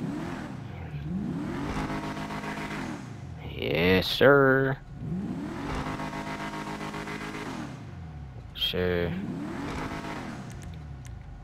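A fully upgraded Ubermacht Revolter car engine in GTA Online revs up and down repeatedly in rising and falling sweeps, with two sharp high-pitched bursts; brief speech cuts in.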